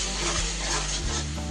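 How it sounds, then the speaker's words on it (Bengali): Spice paste and fried potatoes frying in a pan with a little water, a steady close sizzle with a couple of soft stirring knocks against the pan. "আলু দিয়ে আরও মিনিট 2 মতো আমি কষিয়ে নেব মশলাটা"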